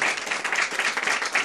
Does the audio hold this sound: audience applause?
yes